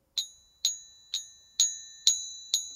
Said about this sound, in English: If I hit it, so the bell.